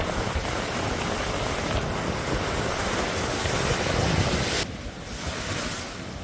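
Strong wind roars with heavy ocean surf from Cyclone Biparjoy on the Gujarat coast, a dense continuous wash of noise that buffets the microphone and eases slightly near the end, with no voices.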